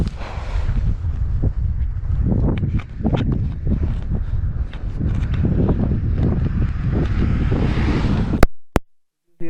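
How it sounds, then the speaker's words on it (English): Strong, freezing-cold wind near Pangong Lake in Ladakh roars in surging, gusty waves against the microphone, loud and close, before cutting off abruptly near the end. "Just hear to the sound of wind."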